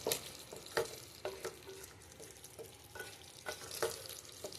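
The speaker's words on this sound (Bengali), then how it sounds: "একদম গ্যাসটাকে সিম করে এটা নাড়তে হবে।" Doi potol, pointed gourd in yogurt with cashews, is stirred in a pan over a low flame, giving faint scraping strokes at an uneven rhythm under a soft, quiet sizzle, with no talking.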